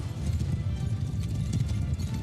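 Horse archers gallop in a medieval battle video game, their hooves making a dense, continuous drumming thunder that stays steady and fairly loud from start to finish.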